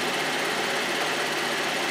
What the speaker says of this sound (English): We're going to start pulling a little vacuum on it